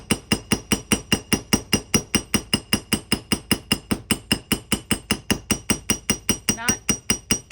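A small ball peen hammer doming sheet metal with a steady, fast run of roughly thirty crisp metallic strikes, close and loud, evenly spaced with no pauses.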